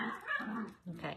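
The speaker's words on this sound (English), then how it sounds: "I apologize for my dog who's attacking, well, I don't want to say attacking, but playing with my cat rather aggressively." A pet dog growls and whimpers while roughhousing with a cat, close by and in short bursts broken by a brief pause, with a person speaking over it indoors.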